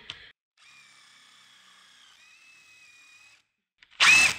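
An impact driver drives TechFast self-drilling screws into steel during a UPVC French door fitting: a steady whining motor run in two stretches with a brief pitch shift between, then a short louder burst of grinding at the end.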